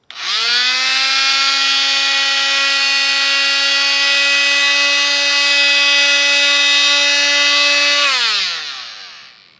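Oscillating multi-tool sanding a knife blade, a loud steady high-pitched buzzing whine that starts abruptly, holds constant for about eight seconds, then winds down as the motor stops.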